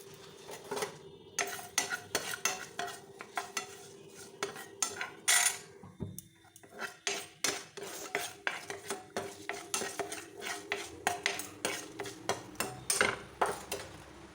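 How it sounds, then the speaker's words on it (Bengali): Mustard seeds, dried red chillies and curry leaves stirred in a hot pan, with a steady run of sharp metal spoon scrapes and clinks over a faint sizzle, close and alone with no voices. "এখানে সর্ষে দিয়ে দিলাম দু চামচের মতো দুটো লঙ্কা শুকনো লঙ্কা আর কারি পাতা দিয়ে দিলাম"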